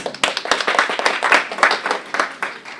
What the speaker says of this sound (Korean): 박수 맞아주세요